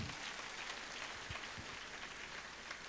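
A church congregation at a funeral service claps in applause, a soft, fairly distant patter of many hands that runs steadily throughout without speech.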